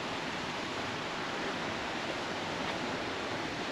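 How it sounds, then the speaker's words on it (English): Turner Falls waterfall in an Oklahoma park roaring in a steady, dense rush of falling water, close and continuous with no voices. "Listen to that waterfall."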